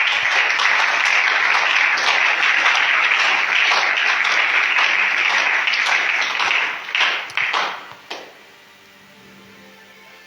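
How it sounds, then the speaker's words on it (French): Church congregation at a large gathering applauding and cheering for Jesus, loud dense clapping sustained for about seven seconds, then breaking into scattered claps that fade to near quiet. "Quelqu'un peut acclamer pour le Seigneur Jésus."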